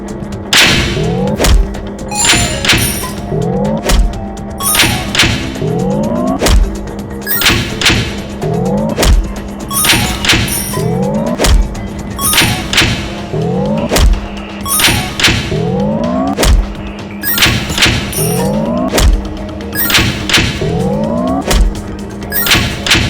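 In Madagascar: Escape 2 Africa, Marty the zebra kicks luggage. Loud, regular thuds and whacks land about every second or two, each paired with a whooshing swipe over looping game music.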